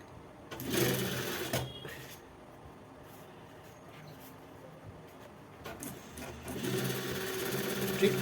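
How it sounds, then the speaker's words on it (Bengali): A sewing machine stitching a nonwoven bag runs in two loud bursts, briefly at the start and again toward the end, with a quieter pause between and a voice talking underneath. "এইভাবে সেলাই করে নেবে"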